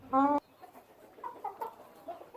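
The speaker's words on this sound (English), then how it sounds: "There's the hen that matches that gray rooster." A brief loud squawk from a chicken, then soft, scattered clucks from hens nearby in a quiet yard.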